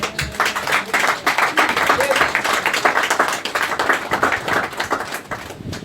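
A church congregation applauding to acclaim the Lord, with dense, steady clapping from many hands filling the room while a voice speaks over it.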